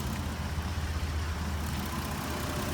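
A Dodge Nitro with a no-heat problem sits with its engine left running, a steady low idle rumble that holds evenly throughout without any revving or talk.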